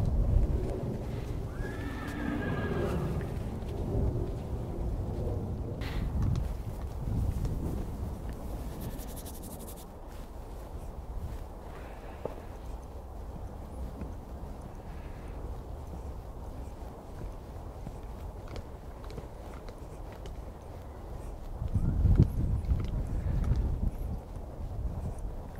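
A ridden horse walks down the centre line of an arena, with soft hoof clops, snorts and gusts of wind noise across the stretch and a louder burst near the end.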